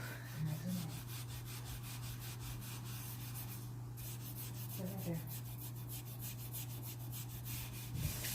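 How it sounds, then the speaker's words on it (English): A stainless steel skillet is scrubbed clean with fast, continuous back-and-forth rubbing strokes, faint and close, over a steady low hum, with a few brief clinks. "the less scrubbing you have to do"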